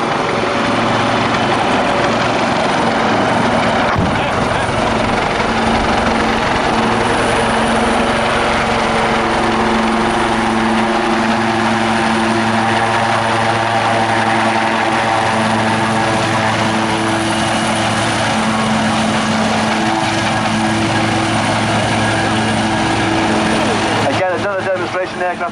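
A Royal Navy Wildcat helicopter flies a display at the Yeovilton Air Day airshow, its rotor and turbine thrumming loudly and steadily throughout, with a commentator talking over it on the public address.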